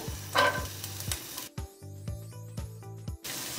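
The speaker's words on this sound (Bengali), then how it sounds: "তেল গরম হয়ে গেছে, দিয়ে দিচ্ছি রসুন কুচি।" Chopped garlic sizzles in about five tablespoons of hot oil over medium heat for a dried-fish curry, a steady hiss broken by scraping, stirring strokes of a spatula in the pan.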